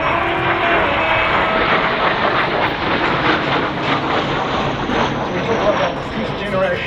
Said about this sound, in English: you hear that whistle as it goes past